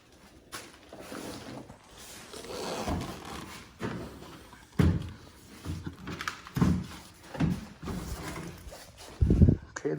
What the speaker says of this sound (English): So let me set the door down.